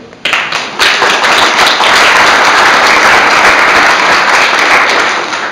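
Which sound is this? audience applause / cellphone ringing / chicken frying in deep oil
audience applause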